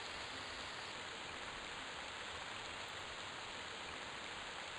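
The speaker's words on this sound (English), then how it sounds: "the rain doesn't care about my options" Steady, loud rainfall in the Everquest video game, a dense unbroken hiss of rain that holds evenly throughout with no voices.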